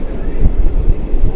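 Simhadri Express train on its Visakhapatnam to Guntur run, pulling into Pithapuram station: a steady, close low rumble with soft rhythmic thumps of the carriages rolling over the track, continuous throughout.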